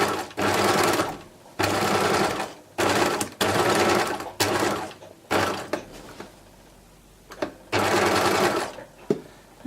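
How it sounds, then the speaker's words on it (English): Close, loud sewing machine bursts stitch across the corners of a beach bag, several short runs separated by pauses with clicks of handling and fabric shifting between them. "I've sewn across the corners"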